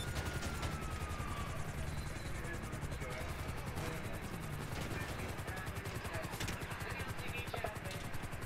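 A helicopter in the video game Grand Theft Auto V drones with a steady, loud chopping rotor beat and engine roar throughout, with bursts of gunfire-like crackle layered in the mix.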